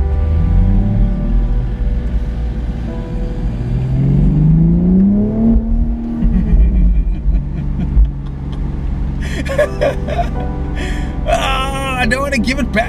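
A 2019 BMW Z4 M40i engine revs while driving, its note rising in a sweep and then falling back, with people talking and gasping over the cabin noise.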